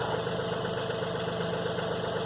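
Tractor engine idling nearby, a steady even rumbling drone with a faint knocking pulse, constant and unbroken with no talk over it.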